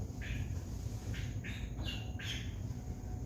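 A fussy silkie chicken squawks in several short, sharp bursts close by over steady background noise, with no talking.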